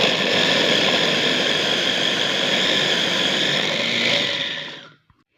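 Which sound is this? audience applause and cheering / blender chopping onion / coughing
blender chopping onion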